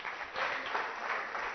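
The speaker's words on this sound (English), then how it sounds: "please put your hands together and give them a loud cheer?" A live audience at a Pecha Kucha art event in Bengaluru applauds with a steady, dense wash of clapping that holds strong and even throughout, with no voices on top.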